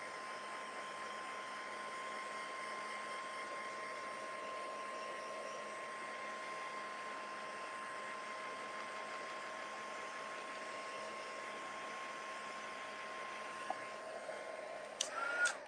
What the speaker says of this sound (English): I'm just going to lightly hit it with my heat gun to set that white ink